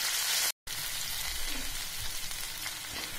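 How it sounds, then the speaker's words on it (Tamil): Ginger and curry leaves sizzle steadily in hot oil for a pongal tempering, a dense, close, continuous frying hiss after a brief cut near the start, with no talk. "எல்லாம் நல்லா வறுபட்டுருச்சு."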